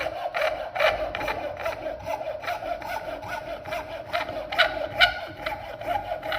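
A thin saw blade slowly cuts through an HDPE plastic keyring while the workpiece is turned, giving soft, close, evenly repeated rasping strokes at a moderate level throughout.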